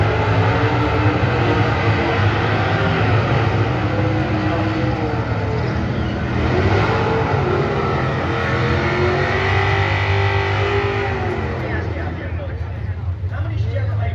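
Factory stock drag race cars, a Dodge Challenger and three Chevrolet Camaros, roar loudly and steadily at a drag strip, with a public-address announcer talking over the sustained engine noise.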